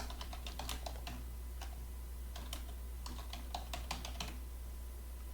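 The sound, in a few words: typing a message on a computer keyboard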